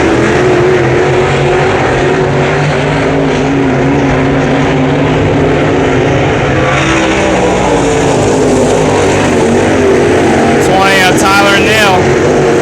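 Race cars roar through a heat race at Brownstown Speedway, a loud, continuous engine drone that swells as cars pass, with a track announcer talking over it.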